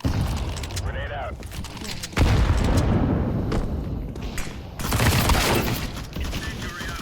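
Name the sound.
grenade explosion in a video game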